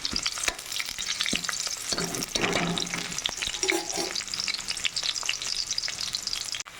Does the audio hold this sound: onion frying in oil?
yes